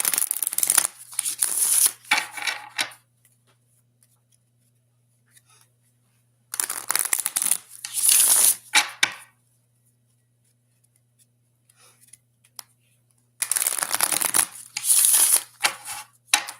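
Tarot cards are shuffled in three separate bursts of crisp riffling and flicking, close and fairly loud, separated by near-silent pauses with a faint steady hum beneath.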